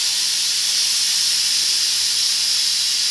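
A pressure cooker releasing steam after cooking tomato dal, a loud, continuous, close hiss that holds steady throughout with no voices.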